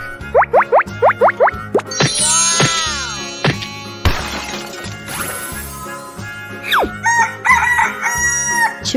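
A rooster crows a long cock-a-doodle-doo in a children's animal transformation piece, preceded by quick bouncy plinks and followed by clucks and playful effects, loud and close.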